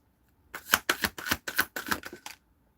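A deck of playing cards is riffle-shuffled several times in quick succession, each burst a crisp, close flutter with short pauses between.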